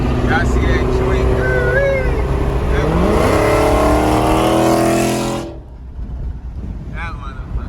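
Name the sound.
car accelerating hard on freeway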